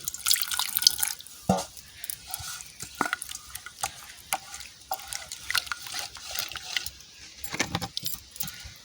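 Water is added to ground garam masala paste in a bowl while preparing a tilapia fish curry, giving a close, clinking, splashing and stirring sound with intermittent drips throughout.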